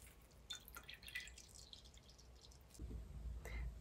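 Liquid drips from mushroom mash as a polypore water extract is gently pressed out, scattered quiet drops with a low rumble of handling toward the end, faint and close.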